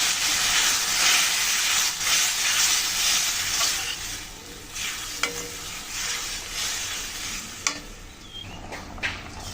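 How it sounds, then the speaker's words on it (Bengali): Mung dal tipped into a hot pan for a mung dal and arum root dish, sizzling and hissing loudly up close while it is stirred, with a few sharp scrapes and pops near the end. "এখন দিয়ে দিচ্ছি আমি ডাল।"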